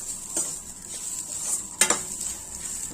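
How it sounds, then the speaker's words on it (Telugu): Basmati rice fries in ghee in a pan, giving a continuous bright sizzle broken by a few sharp scrapes and knocks as the spoon stirs it, close and fairly loud. "అది పచ్చివాసన పోయేంత వరకు మంచిగా నెయ్యిలో ఫ్రై చేసుకోవాలన్నమాట."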